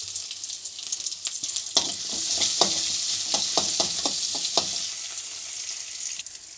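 Garlic, green chilli, ginger and onion sizzle in a hot pan, a bright continuous frying hiss punctuated by a quick run of rhythmic spatula taps against the metal; no one speaks.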